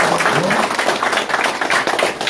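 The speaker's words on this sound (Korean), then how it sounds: "다시 한번 큰 박수로 격려를 드리겠습니다." Loud, dense applause from a crowd gathered at the opening ceremony of a Democratic Party provincial council candidate's campaign office in Gumi, Korea, sustained clapping throughout.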